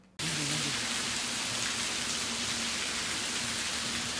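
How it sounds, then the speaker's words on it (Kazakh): Heavy rainwater pours down through a building corridor in a loud, steady, unbroken rush of splashing water that fills the whole stretch, heard close and alone. "Жоғарыда дәліздің ішімен шарылдап аққан жаңбырдың суы тіршілікке кері әсерін тигізіп"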